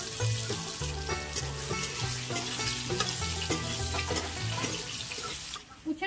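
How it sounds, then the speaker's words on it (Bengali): Bitter gourd slices frying in oil in a wok, a close, bright, continuous sizzle with a few crackles, played over background music. "উচ্ছে দিয়ে দিচ্ছি কড়াতে।"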